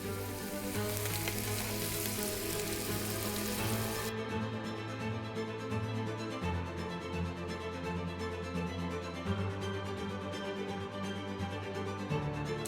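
Salmon searing in a pan of melted butter, a steady broad sizzle that runs continuously at moderate level, with a low hum underneath throughout.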